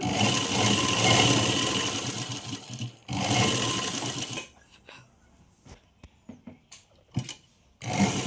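Sewing machine stitching a thin line over buckram on an umbrella frock, a steady close mechanical whir for about four seconds with a brief pause, then stopping into scattered handling clicks and taps.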